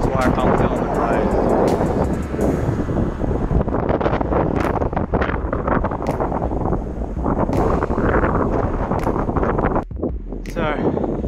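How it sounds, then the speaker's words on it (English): Strong desert wind buffets the microphone in the Mojave during a bikepacking ride, a loud, continuous roar with gusty swells that dominates throughout, with a voice speaking underneath. "Is that it's really windy at the moment."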